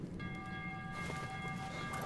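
Underground metro train rumbling in the video game Metro Last Light, a steady low droning rumble with sustained tonal hums and faint metallic clanks, continuous and moderately close.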